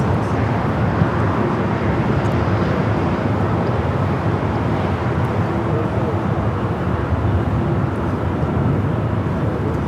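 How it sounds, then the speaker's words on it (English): United Airlines Boeing 737 MAX 8 jet arriving on the north side at LAX, heard as a steady, loud, broadband engine roar that holds evenly throughout, with no distinct rise or fade. "Next arrival here on the north side, United Flight 2146 coming up from Vancouver"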